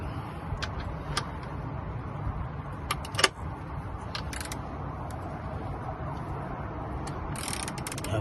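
A ratchet fitted with a 19mm socket works loose the oil drain plug on a MK5 Golf R32 in a driveway, with short bursts of clicking pawl and metallic taps over a low steady background, fairly faint and without talk.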